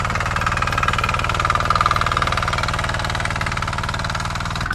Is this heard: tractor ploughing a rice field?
yes